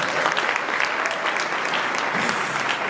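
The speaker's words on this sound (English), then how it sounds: "You should be clapping right now," Dense, sustained applause from an audience at a school alumni golf challenge event, steady and fairly loud across the whole stretch.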